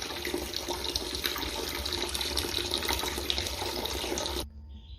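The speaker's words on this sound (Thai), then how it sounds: "ก็เปิดทิ้งไปสักระยะหนึ่งนะครับ ให้มันเป็นน้ำของใหม่" Water running steadily from the tap of a home water filter after a filter cartridge change, a continuous close splashing hiss that cuts off abruptly near the end, leaving near silence.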